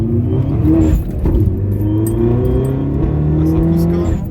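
A stage 2 tuned Peugeot 208 GTI accelerates hard, its engine note climbing through rising harmonics in a loud, close pull from inside the car, with voices faintly audible underneath.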